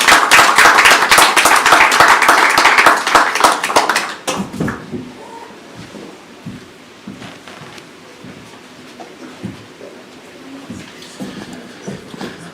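A conference audience applauds after a speech on climate finance: loud, dense clapping for about four seconds, then it thins into scattered claps and faint room noise.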